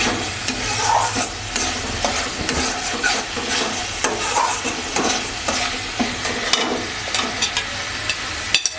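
Chicken pieces sizzling in a pan for Dhaba-style chicken bharta, with steady frying hiss and repeated scraping stirs of a spatula throughout, close and alone with no talk.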